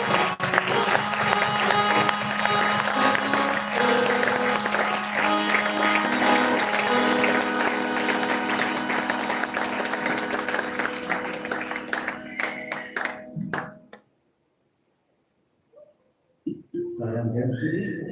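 A church congregation at a Pentecostal-style gathering claps hands together, dense sustained clapping with crowd voices mixed in, loud and continuous for about thirteen seconds before breaking off into near silence.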